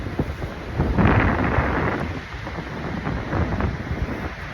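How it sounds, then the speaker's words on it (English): Strong gusting wind buffets a beachfront during hurricane-force conditions, a loud, continuous roar with rushing surges and microphone rumble, no voices present. "It's super windy."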